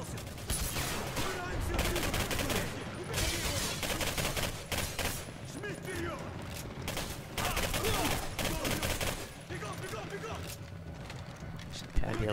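Gunfire in the video game Singularity crackles in rapid, continuous bursts across the whole stretch, dense and loud, with a voice talking over it.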